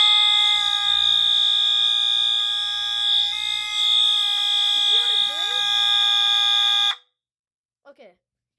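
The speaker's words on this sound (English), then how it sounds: "you can see the horn is changing pitch" A loud, piercing fire alarm horn blares steadily for about seven seconds, its tone shifting in pitch, then cuts off abruptly, leaving near silence with a couple of faint clicks.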